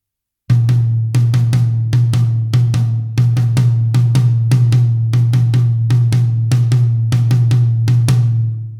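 A drum kit taps out a repeating pattern of crisp hits over a steady low drone, both hands playing the same offset pattern. The playing is loud and close, with no voices.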